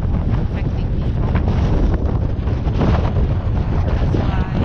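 Strong wind buffets the microphone on a windy, dusty beach, a loud continuous rumbling roar with gusty surges and no pauses.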